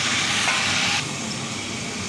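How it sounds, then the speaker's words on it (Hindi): Tomatoes drop into browned onions in a hot pan for chickpea rice, giving a loud, close sizzling hiss that eases to a softer, steady fry after a second. "अब हम डालने लगे हैं टमाटर।"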